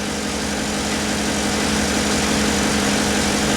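A GMC's 5.3 LS V8 idles steadily with a loud, even low rumble and constant droning hum, close up, with no misfire heard and no one talking.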